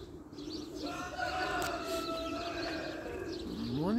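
A flock of domestic pigeons coos nearby in soft, repeated throaty calls layered over one another. Faint chirps and a rising whistle-like note come near the end, and a quiet outdoor background sits beneath them.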